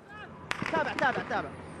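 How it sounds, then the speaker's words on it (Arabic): Two sharp gunshots crack a half second apart over a busy background of overlapping voices, close and loud, inside an airport hall in Aden after an explosion. "الانفجار داخل الصالة، في إطلاق نار أيضا."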